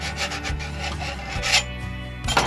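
Rough rasping strokes of sandpaper scraping back and forth over a painted furniture surface, close and steady, a few strokes in quick succession.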